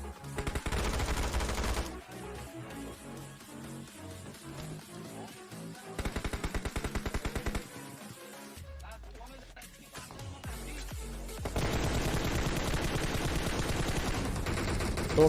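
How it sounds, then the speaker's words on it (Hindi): Gunfire in the PUBG Mobile battle royale game comes in loud, dense automatic bursts and rapid shot volleys that fill most of the clip. There is a brief quieter gap in the middle, and the firing sits over continuous game audio. "यहाँ से मुझे बहुत देर से फायरिंग आती थी"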